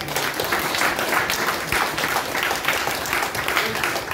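Audience at a spiritual camp in Haridwar clapping together, a dense, continuous wash of applause that stays steady and fairly loud throughout.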